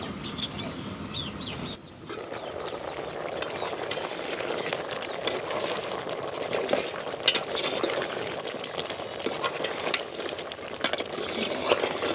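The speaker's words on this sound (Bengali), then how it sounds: "এখন আমি একটু নাড়া দিয়ে দিব তরকারিটা" Curry being stirred in a sizzling pan, a steady close frying hiss with soft scraping and stirring scrapes throughout, faint voices in the background.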